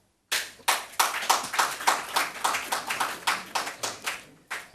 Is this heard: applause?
yes